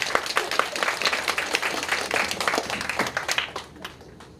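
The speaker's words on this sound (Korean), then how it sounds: "박수 해주시기 바랍니다." A crowd applauds at a church ordination service with dense, steady clapping that fades out toward the end.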